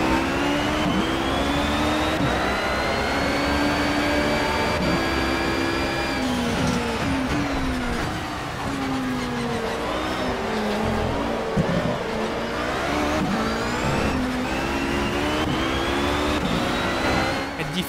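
Race car engines in Project CARS howl and rev continuously at close range, with Audi hybrid cars in a wet race, rising and falling through gear changes with steady high-pitched whine throughout.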